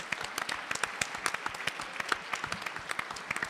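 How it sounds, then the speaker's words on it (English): Audience applause for contestants at a U.S. Bible contest for adults: a dense, steady crowd of clapping hands, fairly close and continuous throughout, with no talk over it. "I want to applaud all of our contestants once again."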